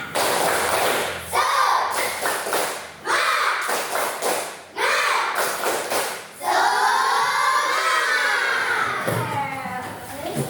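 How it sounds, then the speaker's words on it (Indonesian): A group of people performs a rhythmic spirit clap in a classroom-style activity, loud bursts of clapping in patterned beats repeated several times, with some voices and shouts mixed in. "Coba tepuk semangat"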